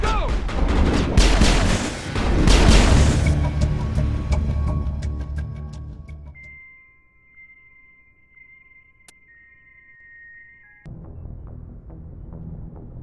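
A loud, dense burst of weapon fire erupts in a Mass Effect firefight with a continuous crackling barrage, then it thins out into a quieter stretch of electronic tones before the fire resumes.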